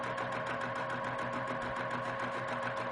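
A home sewing machine stitches a decorative filler stitch on a quilt, giving a steady, close, continuous mechanical whir with a fast even needle rhythm throughout.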